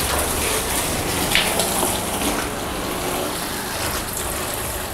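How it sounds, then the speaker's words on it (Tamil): Water gushes steadily into an inflatable rubber kids' pool, a continuous close hiss and splash like heavy rain on a surface, with no talk over it. "ஸோ ஃபஸ்ட் வாட்டர் வந்து ஃபில் பண்ணியாச்சு"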